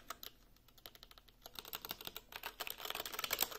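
Fingers type quickly on a Corsair Vengeance K65 mechanical keyboard, a rapid, uneven stream of crisp clacks that grows busier and slightly louder toward the end, close to the listener with no voices.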